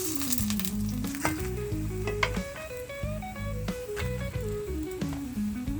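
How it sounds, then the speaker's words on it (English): Ackee and saltfish fry in a pan with a steady sizzle under loud background music, occasional stirring clinks breaking through. "so now I'm gonna fry up my ackee and saltfish"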